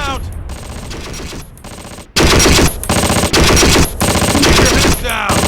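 Rapid machine-gun fire in the Close Combat: Wacht am Rhein war game, loud and close, rattling in several long bursts with short gaps between them.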